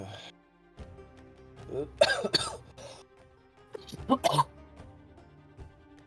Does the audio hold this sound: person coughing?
yes